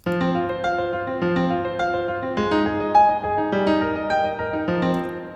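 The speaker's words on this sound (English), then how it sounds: "Steinway piano too, and it sounds like this." Lively Steinway piano playing with a bright melody over chords, moving quickly in short phrases, close and clear with no voices.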